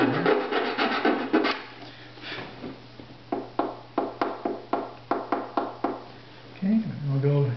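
A wooden violin bridge bar being tapered with a rasp or file, rhythmic close scraping strokes, first in a quick burst and then as evenly spaced single strokes, with someone speaking briefly at the start and end.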